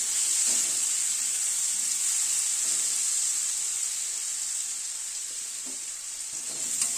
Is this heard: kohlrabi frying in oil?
yes